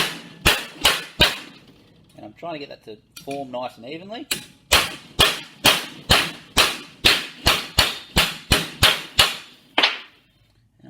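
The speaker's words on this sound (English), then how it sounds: "I'm just going to give it a little love tap with a hammer" A hammer taps a metal bar clamped in a vise for a handle bracket: a series of sharp, ringing metallic strikes, three at first, then after a pause a steady run of about a dozen evenly spaced blows, with someone talking briefly in between.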